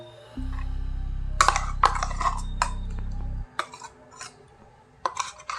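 Blended spice paste for aam kasundi prawn paturi scraped from a mixer jar into a bowl: a low steady hum, then a run of sharp metallic clinks and scrapes, close and loud.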